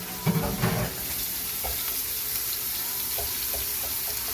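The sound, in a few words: steak sizzling as it starts cooking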